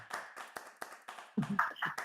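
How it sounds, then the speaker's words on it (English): A small audience claps at an online event, a loose scatter of separate hand claps that thickens toward the end, then a voice comes in. "give a round of applause to Heena"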